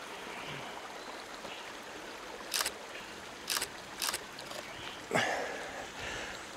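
Steady broadband rush of a small stream flowing along its bank, continuous and moderately near, broken by a few brief sharp clicks and a short splash or step near the end.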